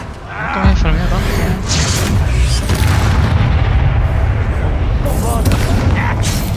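A Bombarda spell explodes in Hogwarts Legacy as a loud, booming blast that rolls on continuously under excited talk.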